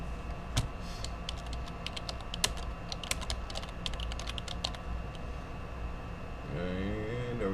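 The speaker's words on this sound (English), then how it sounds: "And are we typing slow?" Fast typing on a computer keyboard, dense rapid clicking for several seconds at close range over a low steady hum, then the keys stop and a voice begins speaking.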